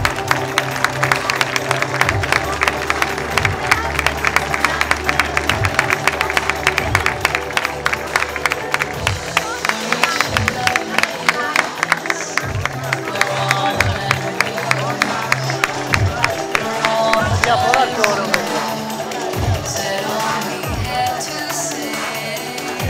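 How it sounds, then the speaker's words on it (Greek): Sustained crowd applause with clapping and some cheering at a Mr. & Miss Beauty pageant in a nightclub in Crete, loud and steady throughout, fading slightly near the end. "Χειροκρότημα, παρακαλώ."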